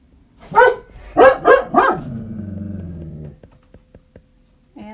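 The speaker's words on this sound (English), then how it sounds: "And that's my dog." A dog barks loudly and close, with a single bark followed by a quick run of three, then a low growling rumble and one more short bark at the end.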